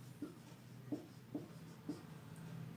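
Chalk or pen writing out a projectile-motion equation in a quiet classroom: four evenly spaced short taps and strokes, close and soft, with no talking.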